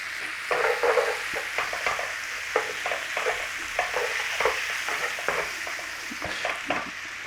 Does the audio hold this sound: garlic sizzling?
yes